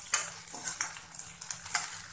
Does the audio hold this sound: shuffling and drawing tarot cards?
no